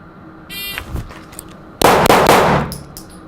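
Shots fired at a live-fire range: a ringing metallic clang from a struck target, then a loud, sharp blast with a rough, ragged tail about a second later.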